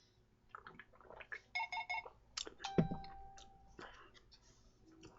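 Phone noises: a sequence of electronic beeps and chirps, including short repeated tone bursts and a sustained tone, sounding near and moderately loud with faint background murmur.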